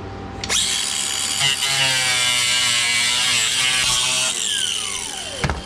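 A high-pitched cutting blade whines steadily while snipping through a bumper mounting tray on a Lexus GX460 during an Ironman bumper install, loud and close, ending with the tool winding down.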